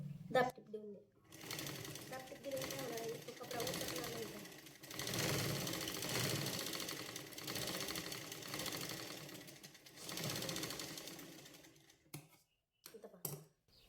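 A sewing machine stitches a sleeve join on fabric in long, steady runs of close mechanical whirring, stopping and restarting, with someone talking softly between the runs.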